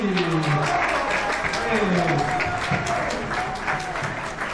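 An audience at a school show applauds the students, sustained dense clapping from a crowd while voices cheer and call out over it.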